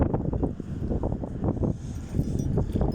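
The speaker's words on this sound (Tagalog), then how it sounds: "Lakas ng hangin." Strong wind buffets the microphone in heavy, continuous low rumbling gusts, loud and close throughout.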